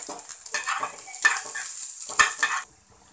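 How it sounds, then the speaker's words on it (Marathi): Ginger, garlic and chopped onion sizzle in hot oil in a pan, a close hissing crackle broken by scraping bursts of stirring, fading toward the end, with no speech. "त्यानंतर बारीक शिरलेला कांदा टाकणार आहोत।"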